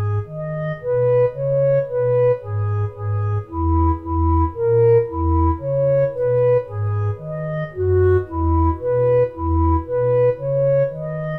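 Melody transcribed from music painted in a Hieronymus Bosch work, played as a steady sequence of plain, evenly paced notes over a low bass line with no voices.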